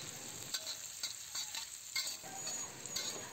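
Sliced garlic and onion sizzle steadily in hot cooking oil in a pan, a soft continuous frying hiss with occasional stirring scrapes and no talking.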